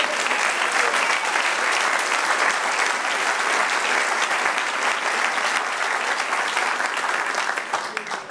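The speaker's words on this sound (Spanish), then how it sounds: "Denle un aplauso al Señor." A Spanish-speaking church congregation gives sustained, loud applause to the Lord, a thick, continuous roar of many clapping hands lasting over eight seconds before it starts to taper at the end.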